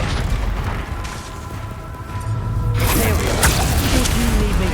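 A Confringo blast spell erupts in the video game Hogwarts Legacy, a heavy boom that rises into a sustained rumbling burst after quieter game ambience.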